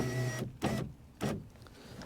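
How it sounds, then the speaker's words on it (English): Electric rear window motor in a 2007-2013 Chevy Silverado 2500 lowering the glass: two short, close whirring bursts about half a second apart, separated by quiet, with a faint hum behind them and no talk. "just roll down our window"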